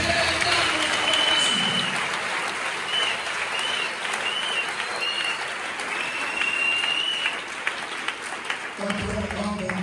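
A church congregation at a Sunday service bursts into sustained applause, dense steady clapping filling the room, with a voice speaking over it and tapering near the end.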